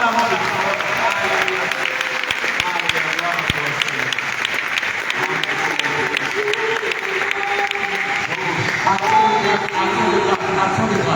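A congregation at a charismatic renewal service at Notre-Dame de l'Assomption claps for about ten seconds, a sustained patter of applause with faint voices underneath.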